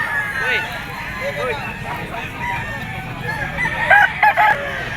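A young White Kelso gamefowl stag crows loudly and close, with clucking and hens around it, and someone talks over the birds throughout.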